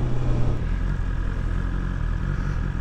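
A 2020 BMW S1000XR motorcycle engine runs at high revs, a steady, loud, buzzing drone held close and unbroken for a few seconds, with no talk over it.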